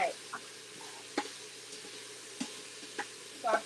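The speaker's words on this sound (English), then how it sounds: "So our pork is getting nice and brown." Seasoned pork browns in a pan with a soft, steady sizzle and low crackle, quiet under a few clinks and stirring sounds in a home kitchen.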